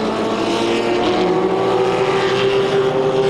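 A Porsche 904 race car in an endurance race chasing the leading Lola, its engine a loud, steady, close drone with a sustained pitch that shifts slightly, continuous for the whole stretch with no talk.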